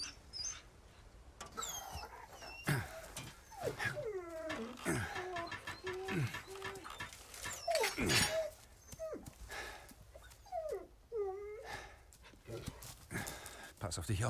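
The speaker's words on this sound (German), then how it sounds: "Oh, der Hund!" Dog whimpering in the video game Resident Evil 4 Remake: repeated high, wavering whines and short yelps come in bursts, with a voice talking in between.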